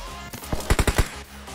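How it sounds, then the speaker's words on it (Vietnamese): A short burst of M416 assault rifle gunfire in the PUBG Mobile video game, about five rapid, punchy shots in quick succession, loud and close, with no talk over them. "đi bắn đi xả đi xả súng đi xả súng đi"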